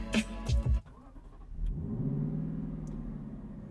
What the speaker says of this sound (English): the exhaust coming from this 5-liter V8 is sometimes more than enough to listen to on its own